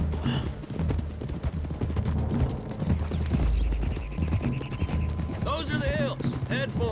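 Several horses' hooves pound in a dense, continuous clatter in Red Dead Redemption 2, loud and close amid game ambience and occasional gunfire-like cracks, with short bursts of speech and a horse's whinny near the end.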